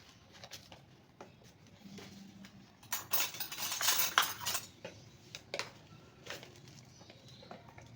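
A spoon works through a marinade of mutton pieces, yogurt and spices, giving soft irregular clinks and wet scrapes against the bowl, a denser burst of stirring in the middle, fairly faint and close, with no talking.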